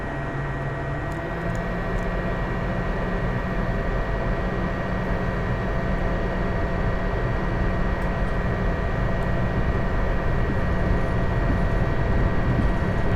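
Airliner in a flight simulator game spooling up for takeoff, a steady loud engine roar with whining tones that builds gradually in intensity, with no talking.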